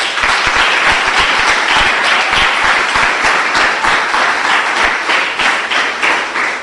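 A church congregation bursts into sustained applause, dense overlapping hand claps filling the room at steady loudness for several seconds, with no one speaking over it.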